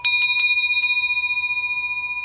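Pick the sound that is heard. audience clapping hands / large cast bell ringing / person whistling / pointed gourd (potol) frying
large cast bell ringing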